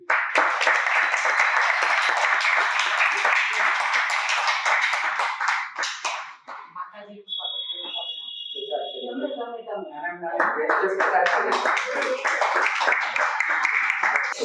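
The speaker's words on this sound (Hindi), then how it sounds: "जोरदार तालियों के साथ प्लीज।" An audience at a health and diet workshop bursts into sustained applause to welcome a guru. The clapping breaks off briefly under a tone and a speaking voice, then swells back up.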